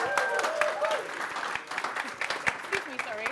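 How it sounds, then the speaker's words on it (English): Audience applause at a podcast event rises and falls as a host is introduced, with scattered claps, whoops and a speaking voice moving over and under it. "Another round of applause."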